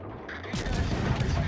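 Guns of the Z-39 destroyer in World of Warships fire in a short burst of rumbling naval gunfire, a soft mechanical clatter giving way to a louder sustained boom within about a second.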